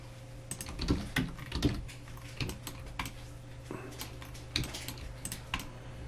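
Keyboard shortcut keys tapped in irregular bursts while widening a 3D arched doorway model, close and fairly quiet, with sharp clicks spaced across a steady low electrical hum and no talking.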